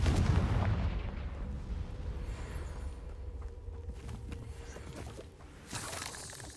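A Confringo fire spell fired in Hogwarts Legacy, a deep booming blast that rolls off into a long fading rumble, followed by a smaller crackling burst near the end.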